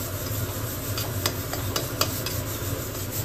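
Cashews and peanuts frying with onion in hot oil, a steady close sizzle with scraping stirs and a few sharp utensil clicks against the pan throughout.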